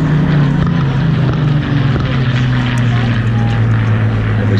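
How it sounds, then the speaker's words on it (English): A CA-18 Mustang propeller fighter at an air show pulling away: a loud, steady droning piston-engine hum with a strong low pulse, dominating throughout. "we see that aircraft pulling away now"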